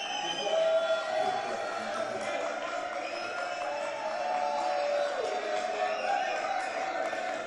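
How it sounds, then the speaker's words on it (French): Studio audience applause on a French TV show, a steady wash of clapping and crowd noise holding at an even level throughout. "Applaudissements."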